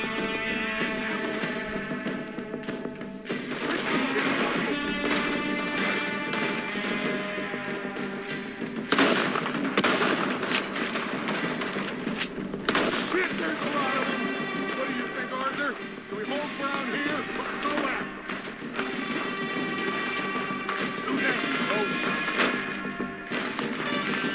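Gunfire in the Red Dead Redemption II video game, with scattered sharp shots and bursts alongside hoofbeats and running, under near-constant talk and game music.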